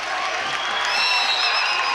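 Basketball crowd in a student section at an MNU Pioneers college game, cheering and clapping as a steady, dense roar of mixed voices with a few whistles on top, loud and continuous throughout.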